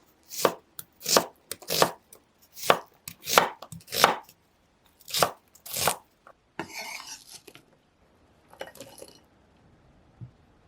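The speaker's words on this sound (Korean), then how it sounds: "양파 1개는 토마토와 같은 크기로 써세요." A knife chops an onion on a cutting board in crisp, close taps, about a dozen quick strikes in uneven rhythm, then a few softer scraping and rustling sounds as the pieces are gathered.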